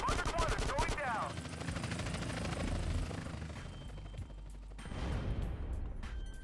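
A helicopter crashing amid gunfire in GTA San Andreas: a loud, dense rotor roar with chattering shots and a heavy impact that thins out before the noise swells again, with voices mixed in.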